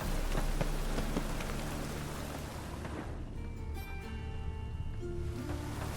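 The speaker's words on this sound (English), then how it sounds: "Raining again." Steady hiss of rain in the video game The Witcher 3: Wild Hunt, in Novigrad, pours throughout, dense and even, thinning slightly partway through as faint tonal hum emerges underneath.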